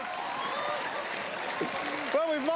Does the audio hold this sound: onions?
no